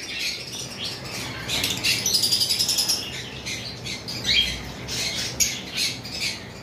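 Pet lovebirds in a bird shop squawk and chirp in a busy chorus, with repeated sharp, shrill calls and bursts of chatter, some close and loud, with faint flutters in between and no one talking.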